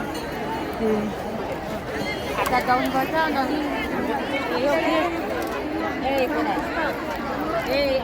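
Large crowd at an outdoor Hindu religious discourse (katha) by a preacher in Chakarwadi, with dense, steady babble of many voices and occasional nearby voices standing out throughout.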